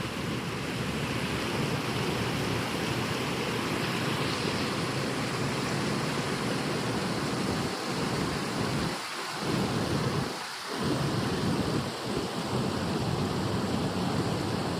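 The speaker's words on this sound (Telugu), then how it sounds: "ఇలా స్పీడ్గా వెళ్తున్నాయి వాటర్" Rainwater from the surrounding hills rushing fast over a pond's overflow weir: a loud, continuous roar of pouring water, with a few low rumbling thumps near the end.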